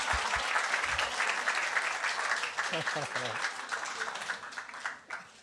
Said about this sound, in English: One more round of applause for our family, for our kids.